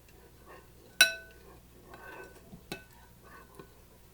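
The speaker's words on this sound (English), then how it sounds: "So now we're going to get our spoon back. And again, you're just going to mix." A spoon mixes slime in a bowl, giving one sharp clink against the bowl and then soft, quiet stirring and light taps, faint and close.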